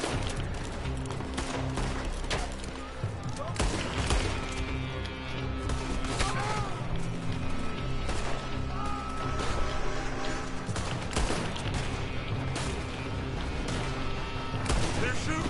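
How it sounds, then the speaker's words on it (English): Gunfire in Red Dead Redemption II: repeated shots crack out irregularly over a dense, busy mix of game music and ambient noise, moderately loud throughout, with no single shot standing clearly apart. "They're shooting from that building."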